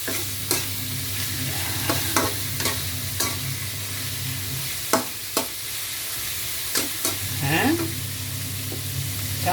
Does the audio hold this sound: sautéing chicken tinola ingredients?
yes